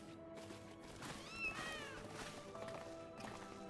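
Cats in the Final Fantasy XIV Dawntrail video game give a pair of rising, drawn-out meows midway through, over a quiet background of faint game music and light footsteps.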